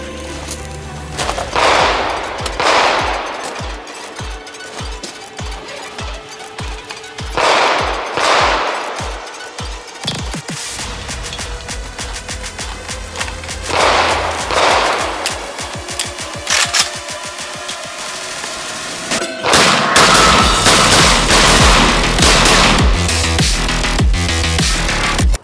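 An RPK light machine gun fires in several sustained automatic bursts, loud and close, with rapid evenly spaced shots separated by pauses, the later bursts ringing into a dense, reverberant roar.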